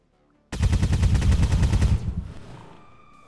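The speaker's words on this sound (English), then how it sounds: "Cannon is not only loud, but it also makes weird sounds." Cannon fire at a drone in XCOM 2 Long War of the Chosen: a sudden loud burst of rapid repeated shots lasting about a second and a half, then a rumbling tail fading out with faint tones.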